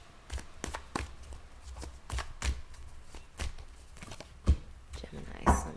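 Tarot cards being shuffled by hand: a series of short riffling bursts and soft taps, close and fairly quiet, repeating at irregular intervals with no talk.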